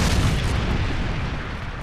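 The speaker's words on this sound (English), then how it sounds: "Friendly Predator missile inbound." A Predator missile explosion from Modern Warfare 3 erupts as a loud, sustained low boom with dense rumbling debris, slowly fading over about two seconds with no voices.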